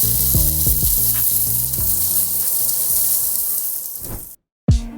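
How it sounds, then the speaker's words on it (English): Vegan meatballs made with Impossible, for a miso sesame glaze, searing in a hot skillet: loud, steady sizzling and hissing with soft stirring knocks early on, then a sudden brief cut to silence before the sizzle returns. "then we're gonna heat up our skillet and get them seared"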